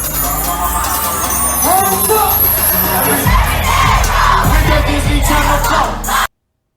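A large crowd roars and shouts at a rap concert, loud and sustained, with a booming bass beat thumping in beneath the cheering before it cuts off abruptly.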